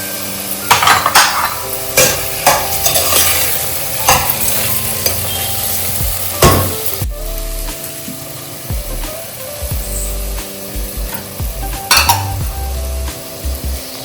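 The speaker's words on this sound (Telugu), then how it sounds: "ఉల్లిపాయ ముక్కలు వేయాలి. టమోటా ముక్కలు," Onion and tomato pieces frying for a mutton cooker biryani: a steady sizzle with a spoon scraping and clattering against the pot in uneven strokes, close and fairly loud, with no talk.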